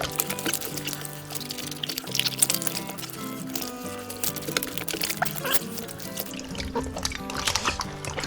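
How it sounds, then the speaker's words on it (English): Pork ears are scrubbed by hand in vinegar, giving a busy, continuous wet sloshing and squelching with splashes and drips, up close. "all we're going to do is we're just going to rub these ears."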